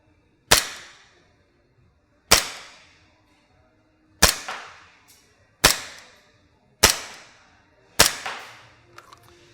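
Echo1 Wolfsbane 1911 gas blowback airsoft pistol fired six times at spaced intervals, each a sharp close crack with a short ringing decay, with quiet pauses between shots.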